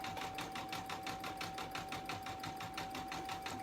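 Embroidery machine sewing a satin stitch on a freestanding lace heart, a fast, even, close rhythmic needle pounding with a steady high whine running throughout.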